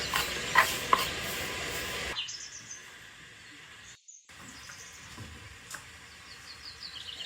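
Eggplant frying in a pan, a soft hiss and sizzle with a few light clinks early on, then a quieter continuous crackle.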